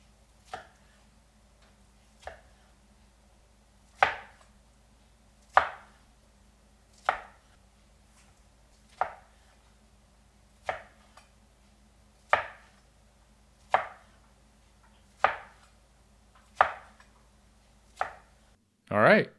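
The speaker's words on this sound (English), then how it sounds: "cut into 8 pieces, and I find the easiest way to do this is to cut it right down the center in half first" A knife slices a spicy tuna sushi roll into eight pieces on a board: about a dozen crisp, evenly spaced chops, each a sharp tap with a brief decay, close up and alone.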